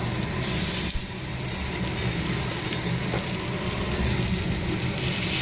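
Spices, wheat flour, ginger, garlic and curry leaves fry in oil in a pan, giving a loud, continuous close sizzle and hiss that fills the whole stretch without pause or voices.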